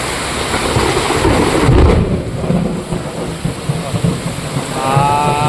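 Heavy rain pours steadily during a flash flood with deep rumbling thunder rolling through, loud and close, filling the whole stretch without any voices.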